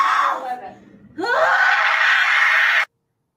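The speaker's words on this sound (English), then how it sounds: "For those primal screams" A woman in labor screams in distress, a loud, sustained, strained cry that sweeps upward after a brief gasp and then holds steady before cutting off abruptly.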